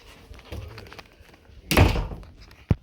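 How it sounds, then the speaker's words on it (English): A room door at home being pushed shut: soft shuffling and handling noises, then a loud, close thud as it closes, followed by a short sharp knock of the latch. "Let me close the door for a sec."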